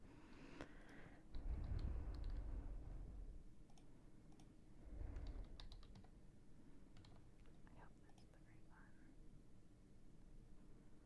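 Quick keyboard typing to sign in to an account, a run of light, irregular clicks at moderate volume, with some low background bumps but no clear talk.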